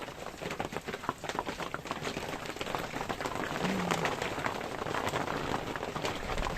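Steady rain falls by a river where skewers of meat are grilling during a fishing outing, a dense hiss of drops pattering on surfaces, loud and continuous, thickening slightly toward the end.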